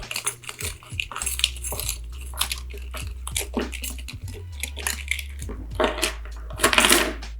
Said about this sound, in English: just the typical rubbing of the keys, the phone holds up pretty well